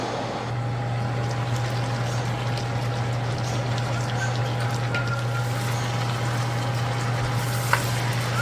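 Mutton and potato curry (aloo gosht) simmering in a pot over a low-medium flame, giving a steady, even low sizzle and bubbling with a constant hum and one faint tap near the end; no talking.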